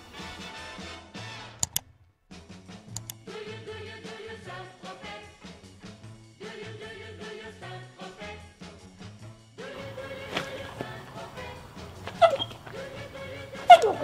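A Dogo Argentino dog whimpers in a long series of thin, high, wavering whines, fairly close and steady, with a few sharper cries toward the end and no talking.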